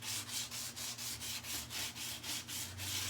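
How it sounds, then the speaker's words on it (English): Wood being sanded by hand with 220 grit sandpaper to distress the legs of a 1980s hall tree, a steady rhythm of about ten close, raspy back-and-forth strokes with no talking. "I used just a 220 grit sandpaper just to pull back"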